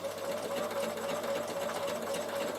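A Bernina sewing machine set to slow speed stitches wool appliqué for a draught stopper, giving a steady, close, continuous mechanical hum with no break.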